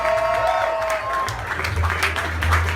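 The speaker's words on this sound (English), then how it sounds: "Big round of applause for Frank Anselmo." An audience claps and cheers at an MCA Day trivia contest and vinyl announcement, a loud, dense wash of applause with some voices and cheering mixed in throughout.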